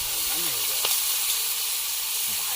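Crabs fry on a flat griddle outdoors after being caught from a stream, giving a steady, loud hiss and sizzle across the whole stretch, with a voice briefly talking over it at the start.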